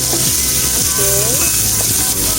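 Broccoli and carrot sizzle in a hot pan while being stir-fried, a steady broadband hiss running throughout with the scrape and clatter of stirring, and faint voice-like tones in the background.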